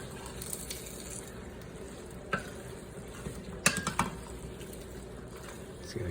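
Seasoning is stirred into a chicken Alfredo sauce in a pan, a soft continuous bubbling with a few clicks and scrapes of the utensil against the pan.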